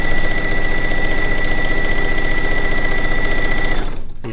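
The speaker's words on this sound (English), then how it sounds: "stitching all the way around the edge" A sewing machine stitches around the edge of a pieced quilt top, a loud, steady rapid mechanical whirr close by that winds down and stops near the end.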